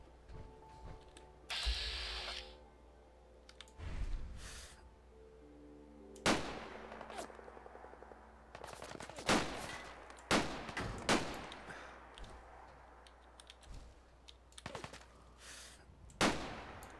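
Gunshots in Fallout 4 with a combat mod, a series of sharp, separate shots spaced irregularly over several seconds, some sounding closer and punchier, with faint ambient game sound between them.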